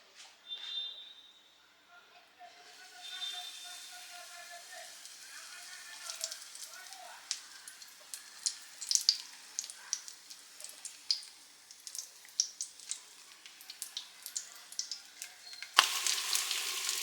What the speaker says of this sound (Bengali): একদম কিন্তু লো ফ্লেমে ফ্রাই করব, কারণ উচ্ছেটাও কিন্তু সিদ্ধ হতে হবে